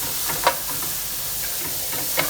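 Garlic butter sizzles steadily in a pan with breaded chicken, a close, even frying hiss with a few faint pops and clicks on top.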